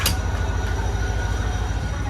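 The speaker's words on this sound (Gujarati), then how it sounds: "ટ્રેન ઉપડી ગઈ આપણે આવતા આવતા હતા." A train rumbles along steadily with a deep, constant roar close by, and a brief high squeal of metal at the very start.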